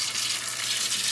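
Hot water pours steadily from a kitchen tap with a close, continuous hiss and splash, heard alone without voices.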